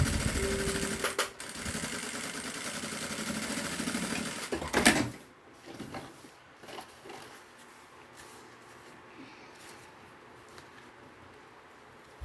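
A sewing machine stitches a zipper to bag fabric in a steady, loud whirring run for several seconds, then stops abruptly. Quieter handling clicks and faint rustles follow.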